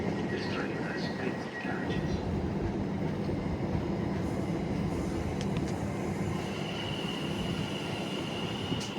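A Class 377 electric multiple unit pulls into Clapham Junction bound for London Victoria, its steady rumble of wheels and motors filling the air with faint metallic squeals along the rails and some indistinct voices in the background.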